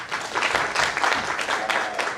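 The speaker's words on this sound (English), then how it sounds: "I clap for them." Audience applause in a conference hall at a South Africa–China engagement event, a steady wash of many hands clapping for a partner team, moderately loud throughout with no pauses.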